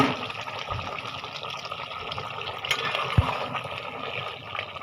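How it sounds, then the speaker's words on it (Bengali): Water pours steadily into a pot of chicken and bottle gourd curry, a continuous soft splashing rush that runs throughout, moderately close. "তরকারিটার মধ্যে আমি পানি দিয়ে দিব"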